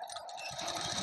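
A sewing machine runs steadily while stitching the shoulder seam of a suit, a continuous close whir that grows a bit fuller partway through, with no talk.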